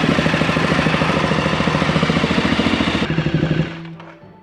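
A Ducati Multistrada motorcycle engine, just after an oil change, runs with a loud, close, rapid pulsing beat for several seconds, then cuts off and fades away.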